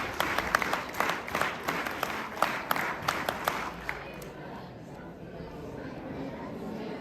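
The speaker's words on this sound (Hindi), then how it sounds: "ताली करो" An audience at a school cultural function in India applauds, with many hands clapping for a few seconds before fading into a low murmur of chatter.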